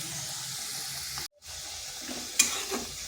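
Onion-tomato masala with green chillies and a splash of water sizzles steadily in a pan, a close frying hiss with brief stirring scrapes and one short gap.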